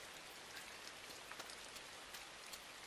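Steady rain falling on a pig farm, a dense, even hiss of drops on surfaces with faint scattered pattering, continuous and soft with no voices.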